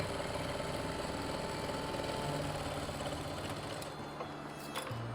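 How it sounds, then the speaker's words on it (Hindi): Sewing machine running steadily while stitching double seams on palazzo pants, a close, even motor hum and rapid needle whir that shifts slightly in pitch near the end. "हर जगह आपने डबल सिलाई लगानी है।"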